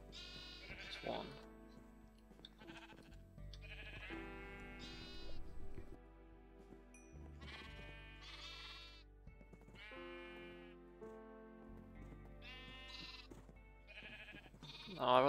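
Sheep in the Voltz video game bleat repeatedly, with several wavering, nasal calls coming one after another at irregular intervals, some overlapping, fairly close and clear over a quiet background.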